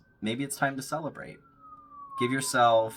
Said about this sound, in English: Sorry about the sirens here.